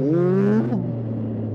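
A Honda CB 1300 Super Four motorcycle engine revs up loudly and close, pitch rising for a moment before dropping back to a steady deep drone as the bike pulls out of a curve.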